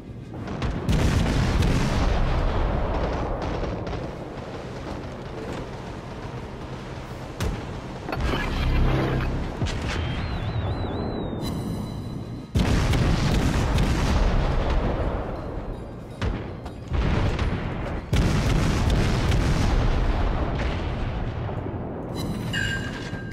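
Heavy naval guns fire repeatedly in a World of Warships battle, loud booming salvos layered over a constant roar of ship noise, with several sharp cutoffs and a rising whistle partway through.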